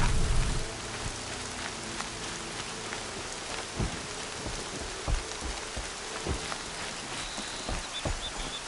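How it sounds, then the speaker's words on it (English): Steady rain falls in the video game Horizon Zero Dawn, a dense even hiss of drops on surfaces with occasional louder patters close by, continuing throughout with no talk. "More rain"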